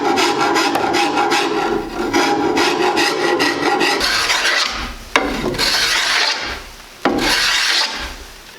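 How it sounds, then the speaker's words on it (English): A hand rasp files steadily along a hickory recurve bow limb, a close, continuous rough scraping with rhythmic strokes and a couple of short pauses, no voices. "Now to get closer to these lines, I'm going to use my rasp."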